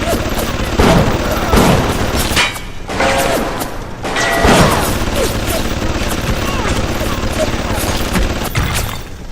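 Automatic turret gunfire in the video game BioShock, sharp bursts of shots repeating in an uneven rhythm over a busy, noisy game soundtrack.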